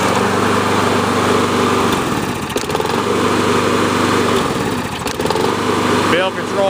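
Toro GTS walk-behind lawn mower running with its drive engaged, a steady close, loud engine drone that dips and recovers as the load changes, with a voice faintly under the engine.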